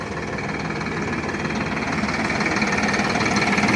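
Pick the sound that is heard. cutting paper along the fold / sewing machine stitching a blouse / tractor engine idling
tractor engine idling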